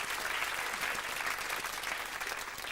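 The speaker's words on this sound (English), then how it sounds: "And I think that deserves a round of applause." Steady audience applause from a crowd at a taped stage show with a teddy bear puppet, dense and even, holding at a constant level throughout with no voices over it.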